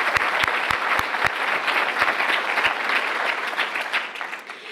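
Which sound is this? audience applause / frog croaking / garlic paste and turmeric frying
audience applause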